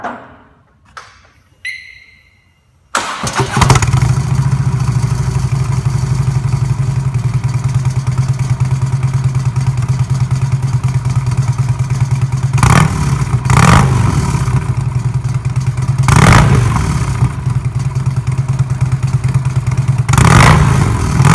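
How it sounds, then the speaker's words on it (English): A 2016 Harley-Davidson Road Glide on its stock exhaust fires up after a few seconds of quiet clicks, then settles into a loud, steady rumbling idle, broken by several brief throttle blips. "we'll do the start up now. We'll do the sound test before we actually change them over"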